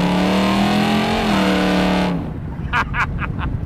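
A 1968 AMC AMX engine revs hard with a rising, loud exhaust note held for about two seconds, then drops away to a rumbling idle with a few short sharp blips.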